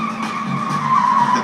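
Car tires screech continuously as a car skids in circles doing donuts at a street intersection, a loud sustained squeal over engine noise.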